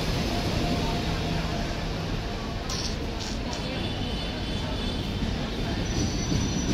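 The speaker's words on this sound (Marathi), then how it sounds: "ट्रेन आलेली आहे." An Indian Railways train arrives at a crowded Konkan station during the Ganpati festival, its wheels rumbling loudly and squealing, with crowd voices and chatter mixed underneath.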